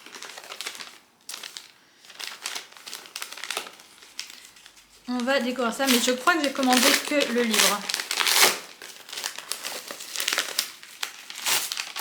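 Paper packaging crinkling and rustling while book mail is unpacked, close and loud in bursts with crisp crackles, under French speech from a woman.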